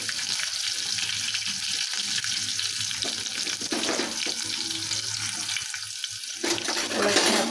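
Finely chopped onion frying with curry leaves in a pan for a chicken dish, a continuous hissing sizzle that holds steady throughout with faint intermittent stirring.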